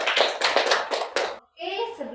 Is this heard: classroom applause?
yes